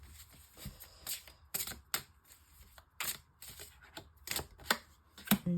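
Tarot cards being drawn and laid down for a nine-card spread, a close, quiet series of irregular crisp card snaps and slides, with no talking.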